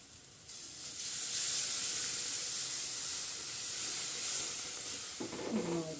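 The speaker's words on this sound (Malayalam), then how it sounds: "കുറച്ച് പുളിവെള്ളം ഒഴിച്ച് കൊടുക്കാം." Tamarind water hits a hot pan of mackerel curry spiced with Kashmiri chilli, setting off a loud, sustained steamy hiss that lasts several seconds before easing, with a brief low knock at the end.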